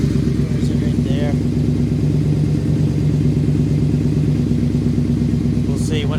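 A Yamaha RoyalStar 1300 V4 motorcycle that has been dumping too much fuel runs at a steady, fast idle close by. The engine rumbles loud and even throughout, with a voice talking briefly over it.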